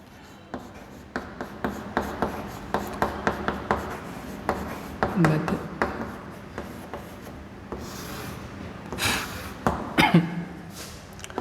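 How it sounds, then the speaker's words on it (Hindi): Marker or chalk writing on a classroom board during a Class 12 maths lesson: a steady run of short scratchy strokes and taps, close and fairly clear, with a few louder scrapes and rubbing sounds mixed in. "पहले हम बोर्ड पे लिख देते हैं"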